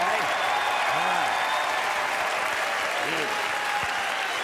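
Audience applause at a George Carlin stand-up comedy show, a dense, continuous wash of clapping from a large crowd, steady and sustained throughout.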